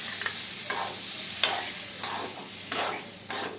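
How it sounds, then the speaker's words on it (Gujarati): Hot tempering (vaghar) hits pav bhaji vegetables with a loud, continuous hiss and crackle, close up, swelling in bursts as it is stirred in, with no talking. "મમ્મી ઉપરથી વઘાર કરે છે."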